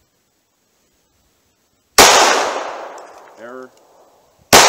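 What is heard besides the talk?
pistol shots firing cold handgun ammunition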